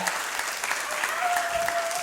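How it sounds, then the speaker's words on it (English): Audience at a stand-up comedy special clapping, a short burst of dense applause mixed with a few cheers and whistles, loud and close throughout. "Give yourselves a round of applause."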